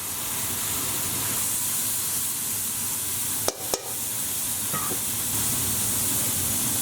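Chicken breasts sizzle on a grill in a steady, dense hiss that holds throughout, close and even, with a couple of brief clicks partway through.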